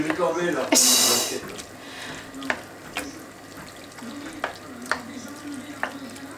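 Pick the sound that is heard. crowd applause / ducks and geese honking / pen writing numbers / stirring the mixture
stirring the mixture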